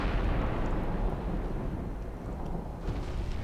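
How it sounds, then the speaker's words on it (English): Distant naval gunfire in the game Ultimate Admiral Dreadnoughts, a deep continuous rumbling roll like far-off thunder, low and muffled throughout. "you hear a lot of thunder and a lot of stuff that sounds like thunder"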